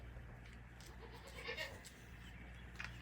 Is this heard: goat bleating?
yes